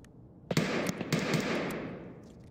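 A rapid burst of about five or six loud, echoing gunshots while an entire magazine is emptied at an enemy in Escape from Tarkov, each crack trailing off into reverberant decay, with no talking.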